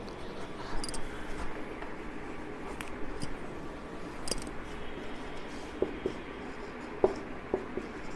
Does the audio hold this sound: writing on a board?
yes